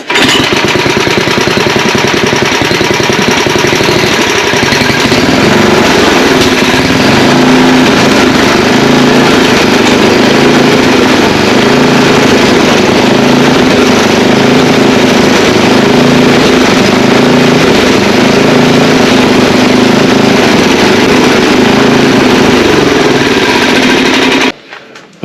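An old 8 hp snow blower engine starts and keeps running after carburetor adjustment, a loud, close, rapid chugging drone that stays steady for over twenty seconds before cutting off abruptly, with no talk.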